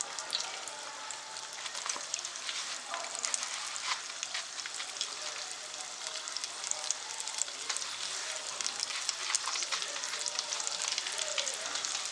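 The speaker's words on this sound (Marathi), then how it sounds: "कढईमध्ये जेवढे राहतील तेवढे बॉल्स आपण टाकणार आहोत आणि तळून घेणार आहोत एका वेळेस." Paneer balls deep-fry in a kadhai of hot oil, making a dense, even, rain-like sizzle with fine crackles that holds steady throughout at a moderate, close level.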